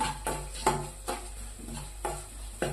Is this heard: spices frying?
yes